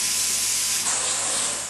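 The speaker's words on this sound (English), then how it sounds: "The insulation, spray polyurethane foam." Spray polyurethane foam insulation hisses steadily as it is sprayed into the stud cavities of a wall in an energy-efficient house under construction in South Dakota, a loud, continuous broadband rush with no pauses.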